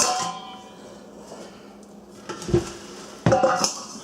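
Ground beef for oven-made jerky goes back into a pan, giving a few soft clinks and knocks of the pan and utensils against a quiet kitchen background.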